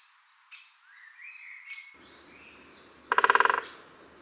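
A great spotted woodpecker near its nest gives a quick, sharp run of about eight clipped notes near the end, after soft, thin whistles of other birds in the background.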